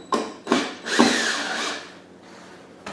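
Power drill loosening screws, three short whirring bursts in quick succession followed by a longer fading spin, close and clear with no talking.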